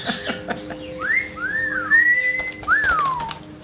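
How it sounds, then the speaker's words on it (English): A pet bird whistles while bathing in water, giving a few clear, sliding whistled notes, rising and falling, close by over faint background noise, with no talking. "And he whistles when he has a bath."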